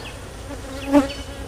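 A steady insect drone of honeybees buzzing close by while honey supers are stripped for harvest, swelling briefly to a louder peak as one passes near, with no talking.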